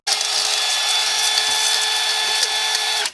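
A small handheld power drill runs steadily during work on a seized MF 1200 tractor's DAF engine, a loud continuous high whine held for about three seconds and cutting off at the end.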